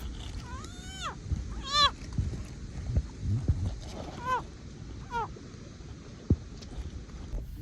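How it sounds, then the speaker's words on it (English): Several rising, warbling frog calls sound in short bursts near the microphone over a rough, windy outdoor background on the Mississippi River, with occasional thumps and splashes of water. "I didn't know frogs could make this noise."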